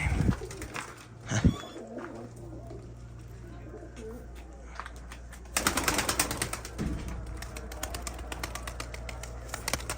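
Young pigeons coo on a rooftop, soft repeated close cooing with wing flaps and rustling, then a busier burst of fluttering activity; a voice speaks briefly.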